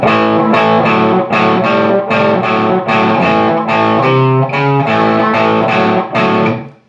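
Distorted electric guitar playing a riff, loud and close, with a steady rhythmic chug of repeated chord stabs and a short single-note run before it rings out.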